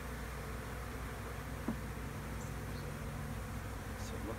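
Honey bees buzzing at an open hive during a nuc installation, a continuous low hum with occasional closer passes, steady and fairly quiet against the outdoor background.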